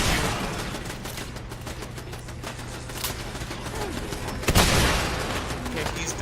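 Rapid gunfire bursts in the video game Fallout 4 rattle continuously, with a sharper, louder shot near the end, under a constant game soundscape.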